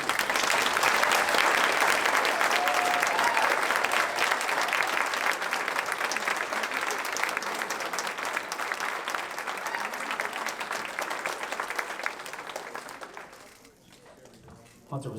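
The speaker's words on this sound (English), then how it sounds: "Everyone give them a round of applause." Sustained applause for the seniors at a school jazz night, a dense loud roar of clapping from the audience that holds steady, then thins out and fades near the end.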